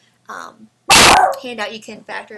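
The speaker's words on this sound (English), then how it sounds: "That's my dog barking." A dog barks once, loud and close, in a short sharp burst that cuts between stretches of a man's speech during a math lesson.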